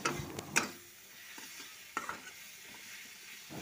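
Capsicum being stirred with spices in a pan, with soft scraping and stirring strokes over a low sizzle, a couple of sharper clinks near the start, and no talking.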